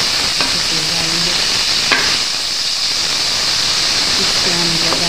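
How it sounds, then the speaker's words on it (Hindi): Onions frying in hot oil make a loud, steady sizzle with a broad hiss throughout, and a few short scraping stirs are heard. No one speaks. "बस ये थोड़ा गर्म हो जाए ऑयल, तो हम इसमें ऐड करते हैं प्याज।"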